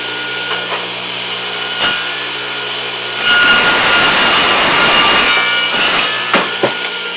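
A power saw cuts wooden pieces at 45 degrees for a raised garden bed. It makes one loud, close cut of about two seconds, framed by brief clicks and knocks and a quieter running hum, with no voices.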